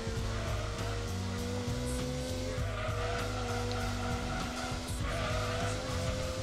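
Engine drone and tire squeal from a car in the racing video game Gran Turismo 2, a steady buzzy engine tone holding under repeated squealing and skidding, loud and continuous with no talking.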